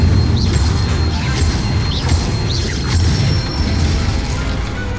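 Spells cast in Hogwarts Legacy, including Accio, Incendio and Levioso, fire off as a run of quick whooshing and sparkling bursts that repeat every second or so, with booming magical impacts over a dense, rumbling game backdrop.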